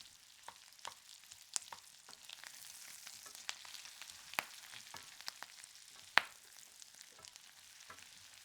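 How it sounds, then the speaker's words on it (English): Corned beef and potatoes fry in a pan, making a steady soft sizzle broken by scattered sharp scrapes and taps as they are stirred. No one talks. "now they're frying off nicely"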